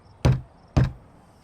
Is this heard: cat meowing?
no